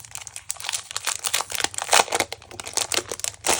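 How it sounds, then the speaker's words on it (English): Planner Babe paper is handled and crumpled by hand, producing dense, crackling crinkles in rapid, uneven bursts, close and fairly loud throughout with no talking. "I do want to grab some of this Planner Babe paper"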